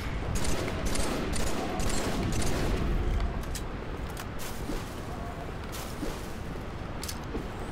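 Halo 3 combat fills the mix with dense, sustained gunfire and explosive bursts that run continuously, loud in the first half and slightly quieter after.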